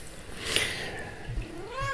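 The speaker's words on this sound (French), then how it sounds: "j'ai mon chat qui dit miaou" A domestic cat gives a single drawn-out meow close by, rising and then falling in pitch, with faint room noise underneath.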